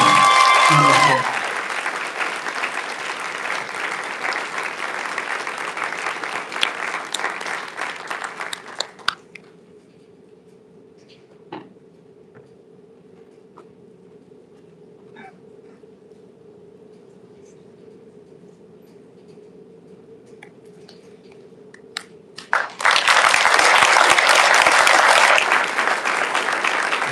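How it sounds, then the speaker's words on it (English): Applause fills the room at a senior awards ceremony, fading out after about nine seconds into a quiet stretch with a low hum, then a fresh burst of loud clapping returns near the end. "can we give one more round of applause, but you went ahead"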